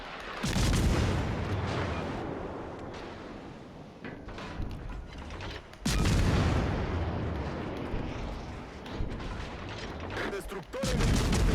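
Warship gun salvos boom in a naval combat video game, two heavy broadband bursts a few seconds apart with rumbling decay, loud and close, with a voice talking faintly underneath.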